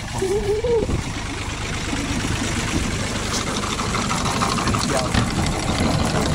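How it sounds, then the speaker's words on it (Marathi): A tractor engine idles and rumbles steadily during pesticide spraying of a pigeon pea field, a continuous low mechanical drone with a brief voice near the start. "ट्रॅक्टर गुडगुड करला औषध संपत"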